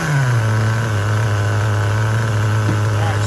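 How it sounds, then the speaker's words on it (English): An HPI RS4 RTR3 nitro RC car engine runs loud and close with a high, buzzing whine, its pitch settling from a brief rev into a steady tone. "Let's get her fired up, and then I'm going to lean her out, and we're going to give her a couple revs and see what she sounds like."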